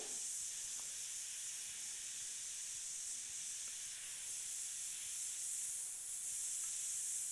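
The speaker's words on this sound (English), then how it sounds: "you can pull the airbrush back and fog color on over the texture that you've already created to brighten it up a little bit more" An airbrush pulled back from a textured surface fogs a light layer of paint on, giving a soft, steady airy hiss that runs evenly and quietly for the whole stretch with no talk.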